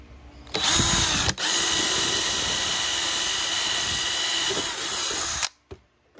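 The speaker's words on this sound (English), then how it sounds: "So let's see if I can drill this without knocking you over." A power drill cuts through sheet metal on a custom box downspout elbow, one loud, steady, close whine running several seconds before stopping abruptly, with no speech over it.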